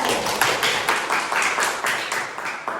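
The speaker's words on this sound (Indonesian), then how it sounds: "Oke, tepuk tangan teman-teman." A classroom of students claps their hands together in a lively rhythmic burst, the dense clatter swelling in regular pulses for a few seconds with no talking.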